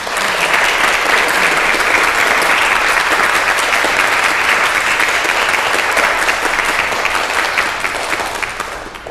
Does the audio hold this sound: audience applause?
yes